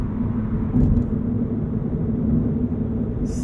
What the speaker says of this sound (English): It's tire noise, it's road noise, it's wind noise.